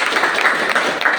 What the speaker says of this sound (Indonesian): Mari kita aplaus dulu